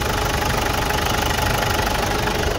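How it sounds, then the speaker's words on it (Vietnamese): A 2011 Ford Everest diesel engine idles up close with a loud, steady clatter and an even rhythm, with no talking. "Và máy nổ rất là êm, không hề có rung giật"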